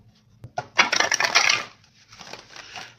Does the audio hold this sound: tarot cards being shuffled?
yes